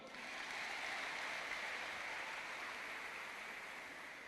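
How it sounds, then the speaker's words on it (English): An audience at an inter-faith leadership summit claps in a dense, steady wash of applause that holds evenly for several seconds at a moderate distance. "Clap for me."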